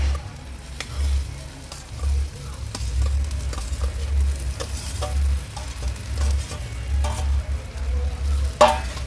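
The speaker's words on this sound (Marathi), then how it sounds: "परतून घेतल्यानंतर ही भेंडी जी आपण भाजून घेतलेली ना ती ॲड करूया।" Okra is stir-fried with onions and turmeric over a wood-fired clay stove, a soft continuous sizzle broken by intermittent scraping and stirring clicks, with a low rumble underneath and no talking.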